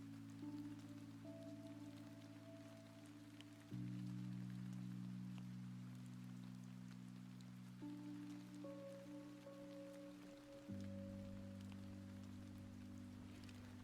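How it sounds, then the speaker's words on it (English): Soft, steady rain patters as a constant background hiss, faint and even, with low sustained tones running underneath and no voices. "the rain just always makes me relax"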